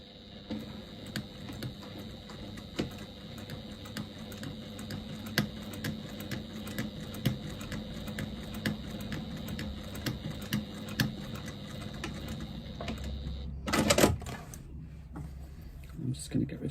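A sewing machine stitching fabric strips together for piping, quick regular needle clicks ticking along close by for several seconds, then a brief louder clatter and rustle as it stops.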